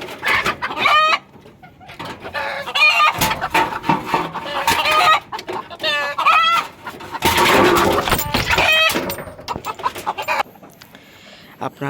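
A restless hen being settled onto eggs in a brick-walled nesting spot clucks and squawks loudly and repeatedly in agitated bursts, with scuffling and short pauses between outbursts.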